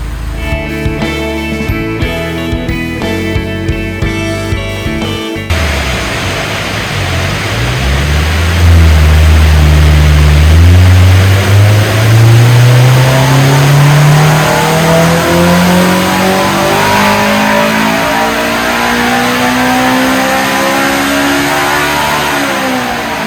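Car engine on a dynamometer power tester, idling briefly then revving hard and climbing steadily in pitch to a loud sustained high-rpm roar, close and dominant.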